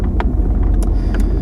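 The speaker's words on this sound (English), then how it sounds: "you gotta drive a little bit into piles of snow to pass through them" A 1980 Chrysler Newport pushes through deep snow piles in Saskatchewan, a low muffled engine rumble with brief scraping and thumping bursts, close and fairly quiet.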